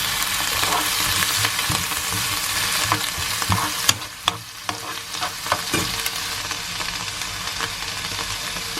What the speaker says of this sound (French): Donc là, je vais rajouter un peu d'eau.